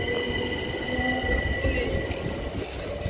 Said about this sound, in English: Freight train is between Hampshire and West Sussex.